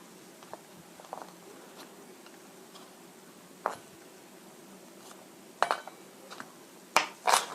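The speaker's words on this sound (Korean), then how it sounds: "이렇게 채 썰어 주시고요" A knife julienning food into thin strips on a cutting board while preparing tofu with meat sauce, heard as quiet, scattered taps and clicks with a few sharper strikes near the end.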